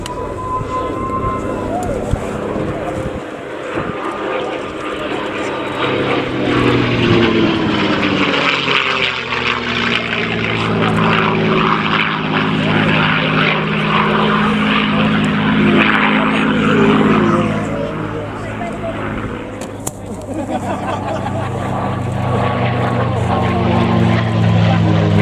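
Merlin-engined Mustang propeller aircraft flying at an airshow, its piston engine droning loudly and swelling as it passes, with shifting pitch and crowd or commentary voices underneath.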